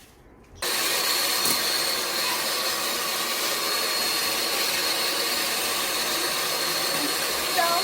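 An electric whisk switches on and runs in a steady, loud whirring hum, whipping egg whites with a pinch of salt for tiramisu, close and continuous without a break.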